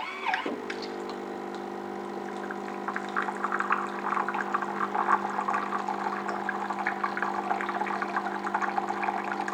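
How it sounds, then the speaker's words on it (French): Hot water streams steadily from the nozzle of a Jura Impressa XJ5 Professional coffee machine, a continuous pouring hiss with a low machine hum underneath, fairly quiet and unbroken throughout. "Vous avez également la possibilité de préparer un thé grâce à la buse à eau chaude située sur la droite"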